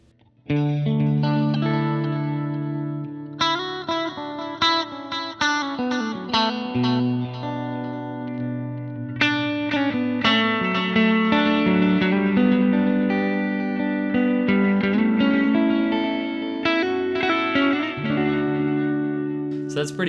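Clean-toned electric guitar from an amp captured via a Two Notes Torpedo Reload II, drenched in heavy DAW reverb so chords and melodic lines smear into a wide, washy tail; steady and prominent throughout with no talking.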